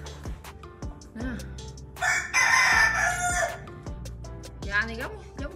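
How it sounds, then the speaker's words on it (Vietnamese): At a rural spiritual site, a rooster gives one loud, drawn-out crow from a full chicken coop, with scattered clucks and cackles before and after while people chat nearby. "Nuôi gà nữa, nguyên cái chuồng luôn á."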